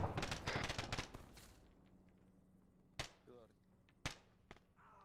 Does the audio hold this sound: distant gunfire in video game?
yes